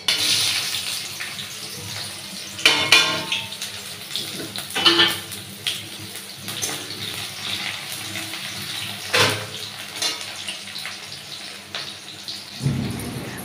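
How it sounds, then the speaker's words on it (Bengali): Sliced onions go into hot oil with two bay leaves, giving a continuous sizzling hiss with several louder crackling bursts as pieces hit the pan and are stirred, close and fairly quiet. "আর এবার দিয়ে দেবো পেঁয়াজ।"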